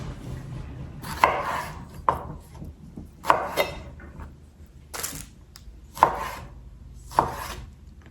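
A knife chopping tomato on a board for tomato and onion salad, six separate sharp chops spaced about a second apart, each with a brief crunchy slice, close and clear.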